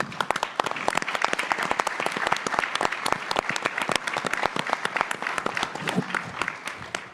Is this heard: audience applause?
yes